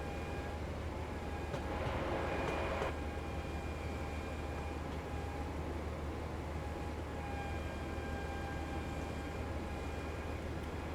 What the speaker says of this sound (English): That is just such a HST noise.